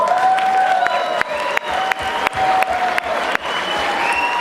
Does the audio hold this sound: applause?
yes